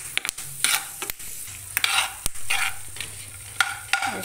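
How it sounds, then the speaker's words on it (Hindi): Dry fruits roasting in a pan on a low flame for atta pinni laddu, stirred with intermittent scraping clicks and a soft steady sizzle, fairly close with no talk. "ये देखिए हमने इसको अच्छे से भून लिया है बिल्कुल लो फ्लेम पे"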